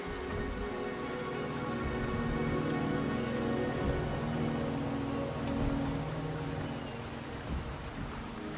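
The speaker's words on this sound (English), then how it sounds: "The rain is subsiding, and the sky will soon clear." Steady rain in the video game Wuthering Waves falls as a dense, even hiss with scattered drops over a low, constant bed of ambient tones, with no voices.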